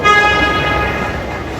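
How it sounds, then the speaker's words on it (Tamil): A loud, sustained horn-like toot from a ride-on train inside a shopping mall sounds close by, holding steady for over a second before fading slightly. "போனா ஏது ட்ரெயினில் போகிறோம்"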